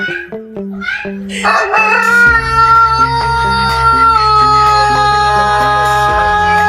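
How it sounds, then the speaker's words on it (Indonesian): A rooster crows loudly and close by, one long drawn-out call set against a steady background of musical tones. "Ayam kalau berkokok"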